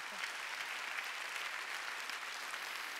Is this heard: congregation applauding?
yes